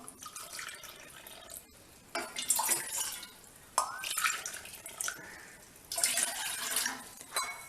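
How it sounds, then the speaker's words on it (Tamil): Water splashing and pouring in several short bursts, with light clinks, close by, into the cup used to measure wheat flour for idiyappam. "இப்போ நம்ம எந்த கப்பில் மாவு எடுத்தோமோ அந்த கப்லேயே இப்போ தண்ணி வச்சுக்குவோம்."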